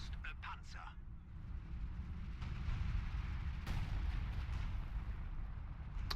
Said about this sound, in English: Some artillery going down on these Panther and their Sturm Pioneers